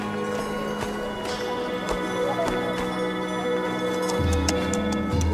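Donkey hooves clip-clop in a slow, steady rhythm of evenly spaced knocks, moderately close, over a continuous background hum.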